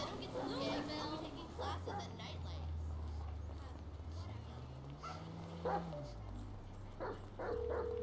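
A dog barks and whimpers in GTA 5 gameplay, with sharp yips near the start and later, over continuous game music and ambience while a person talks throughout.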